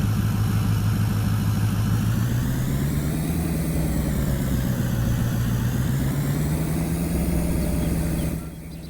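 A truck engine idles steadily in Farming Simulator 22, a loud, even low rumble that holds for about eight seconds before dropping off sharply at the end.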